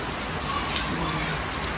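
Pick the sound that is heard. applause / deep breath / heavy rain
heavy rain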